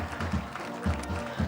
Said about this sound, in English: as we warmly congratulate them with our claps